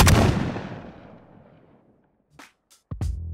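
One sharp layered gunshot sound effect rings out and rolls off into a long fading boom, then a few brief clicks and another sudden burst near the end.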